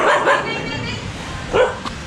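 Several dogs on a street in Sri Lanka give short yipping barks, first in a quick pair and again later, with a person talking over ambient noise.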